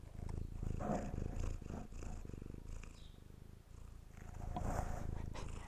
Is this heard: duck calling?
no